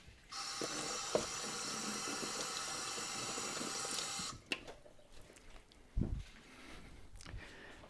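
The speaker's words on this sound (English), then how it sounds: "I'm going to give it a quick wash with some water." Running water from a tap splashes steadily over a Turner 4 1/2 smoothing plane for about four seconds, then cuts off, leaving a few faint knocks and handling sounds nearby.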